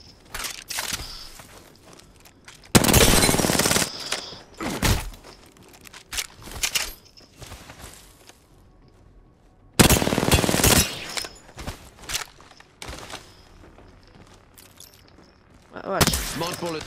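Bursts of automatic gunfire in Apex Legends, two loud sustained volleys and a shorter final one, separated by quieter stretches with scattered shots, footsteps and a voice talking.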